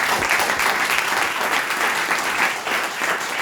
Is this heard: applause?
yes